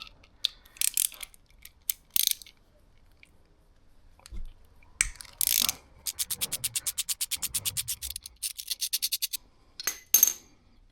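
A ratchet with a Torx 30 bit works a brake pedal bolt on a KTM 890 SMT motorcycle: close, sharp clicking in quick, regular runs, broken by scattered metallic clinks and brief rubbing scrapes.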